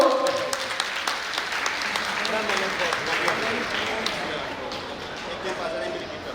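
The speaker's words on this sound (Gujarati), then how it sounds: "તાળીઓ ચાલુ રાખજો મિત્રો" Audience applause at a school alumni reunion's welcome ceremony for teachers: steady, dense clapping from a crowd that carries on for the whole stretch, with some voices mixed in.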